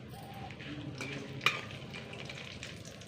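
Cumin seeds, bay leaves, cinnamon, cardamom and cloves fry in hot oil as a quiet, even sizzle, with one brief metallic clink partway through and no voices.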